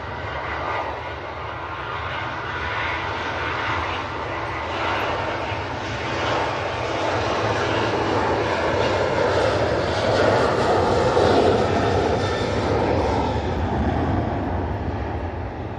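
A Canadian C-130 Hercules turboprop rolls for takeoff at Manchester Airport during a storm, a loud, steady, continuous engine roar that swells slightly and holds throughout.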